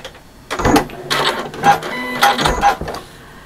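A sewing machine stitches a bag seam point to point with a back stitch, running in short, close, whirring bursts separated by brief pauses.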